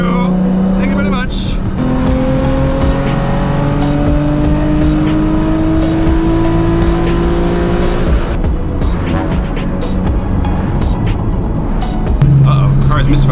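Widebody Nissan 350Z engine running while driving on a mountain road, its steady drone shifting pitch as it pulls and eases off, with a rougher patch near the end where it stumbles; a voice speaks over it throughout.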